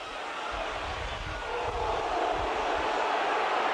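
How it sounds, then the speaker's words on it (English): Roaring rugby league crowd at a Hull versus Wigan cup match, a broad sustained swell of stadium noise building slightly louder as the moments pass. "crowd roaring for a high tackle"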